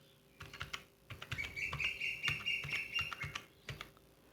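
Rapid clicks of keys being pressed on a computer keyboard as a password is typed, quiet and close, in irregular bursts with a faint high tone running in the background.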